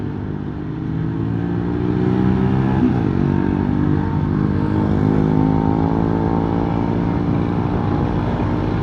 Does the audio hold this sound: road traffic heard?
yes